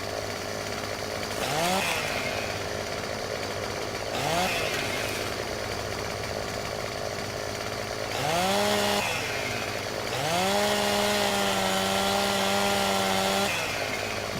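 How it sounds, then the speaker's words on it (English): A chainsaw trimming a tree in Farming Simulator 2015: the engine revs up in several bursts, rising pitch with a held high whine near the end, idling between cuts, loud and close with no talk. "let's get off, draw the chainsaw out, and see if we can"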